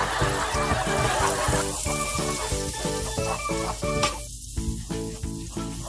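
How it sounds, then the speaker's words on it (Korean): Butter and flour melting in a pan while being stirred for a homemade pork cutlet sauce: a soft, continuous sizzle with rhythmic scraping strokes of stirring, fairly close and gentle. "버터하고 밀가루를 잘 녹여주세요"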